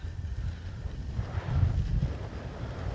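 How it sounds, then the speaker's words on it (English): Steady low wind rumble buffeting the microphone at an RC airfield, swelling stronger midway, with no voices. "A little windy today, but that's all right."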